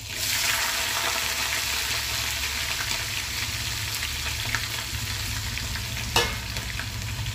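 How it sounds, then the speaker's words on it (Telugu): Mustard seeds splutter in hot oil as onion and chillies fry, a dense, steady sizzle with crackling pops and one sharp spatter near the end, loud and close without voices. "ఆవాలకు చిట్టుపట్లు ఆడుతున్నాయి కదా."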